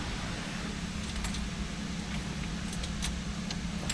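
Car keys for a 1964 Cadillac DeVille jangle with a few light metallic clinks over a steady loud rumble of background noise, with no talking.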